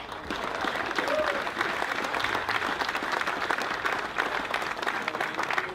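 Sustained applause from a large outdoor folklore festival audience in Limburg, a dense steady wash of clapping lasting throughout, with faint crowd murmur beneath.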